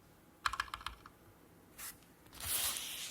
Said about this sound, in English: awful to listen to me hit this keyboard